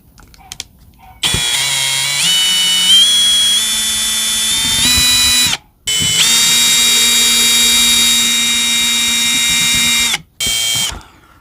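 A power drill or driver backs screws out of an RV camera mount, whining loudly in several sustained bursts with brief pauses between, its pitch stepping up as it spins; no talking.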